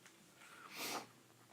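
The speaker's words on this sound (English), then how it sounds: "Excuse me, got a little sniffles." A single short sniffle, a quick nasal intake of air, close and fairly quiet, with no talking.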